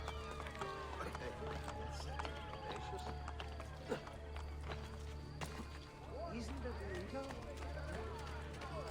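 A horse gallops in the video game Assassin's Creed Brotherhood, its rapid hoofbeats running continuously under a busy game soundscape while a person talks over it.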